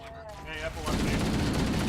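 Rapid automatic gunfire from Halo: Combat Evolved erupts into a dense, continuous volley after a brief quieter lead-in, with players' voices talking over the game.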